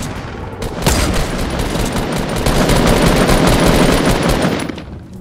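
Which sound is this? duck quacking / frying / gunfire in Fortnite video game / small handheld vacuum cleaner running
gunfire in Fortnite video game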